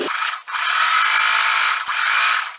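Sewing machine straight stitching around a pillow sham, a loud, close, continuous motor whir with two brief dips where the stitching pauses, no voices.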